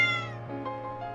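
Cat meowing in the video game Umamusume: a single drawn-out, close meow that slides downward and fades, with no talking.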